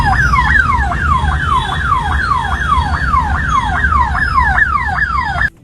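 An ambulance stuck in a traffic jam sounds its siren, a loud, close, rapidly repeating rising-and-falling wail that cuts off abruptly at the end.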